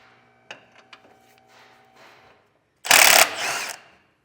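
Ratchet with a 12mm socket removing bracket bolts on a 2023 Toyota 4Runner during an air helper spring install: a few light metallic clicks, then a loud close burst of rapid ratcheting lasting about a second.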